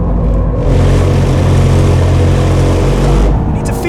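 A 2024 Toyota GR Yaris accelerating hard in second gear on a race track, a loud, sustained engine roar heard from inside the car, close and steady, with a brief lift at the start and end.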